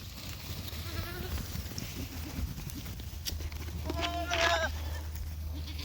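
Herd of goats being moved across a field, several bleats scattered through the clip, the loudest near the end, with hoof clatter over a steady low rumble.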